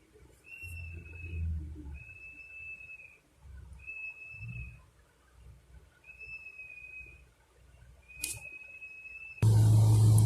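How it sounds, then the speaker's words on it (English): Shrill, steady plastic whistle blasts repeat several times at a distance, each held for about a second, over low rumbling background noise. "They have plastic whistles and they're going nuts with them."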